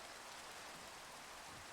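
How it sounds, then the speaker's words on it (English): Steady rain in a blocky sandbox video game, a soft continuous hiss with no breaks, quiet and even throughout. "it's just like rain consistently deciding which side of my head it wants to be on"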